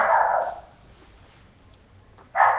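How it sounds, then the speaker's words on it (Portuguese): A dog barks twice indoors, a loud burst at the start and another at the end, separated by a quiet pause. "cachorro"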